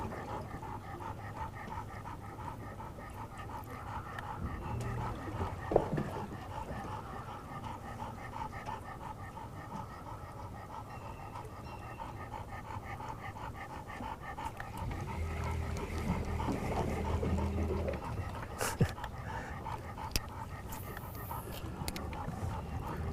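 A dog pants heavily and steadily aboard a fishing boat, its rapid breathing running through the whole stretch over a low, constant background hum, with a brief bump near the middle.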